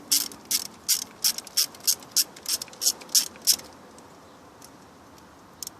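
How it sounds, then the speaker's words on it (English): A ratchet fitted with a 12mm socket loosens a bolt near the intake manifold of a 2002-2006 Lexus ES300/ES330 or Toyota Camry. About ten crisp, evenly spaced clicking bursts come close and loud, then the work falls quiet with one faint click at the end. "For this bolt here, I'm using a 12mm socket to loosen it"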